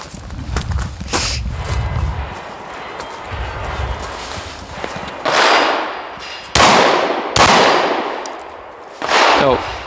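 Pistol shots ring out at a target 20 yards away, several sharp loud cracks with ringing tails spaced a second or so apart, after some earlier softer clanks and handling noise.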